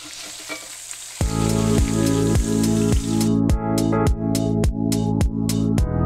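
An Oklahoma onion burger frying in a cast iron skillet gives a loud, steady sizzle that starts about a second in. Regular scraping or stirring strokes sound through it, with no talk.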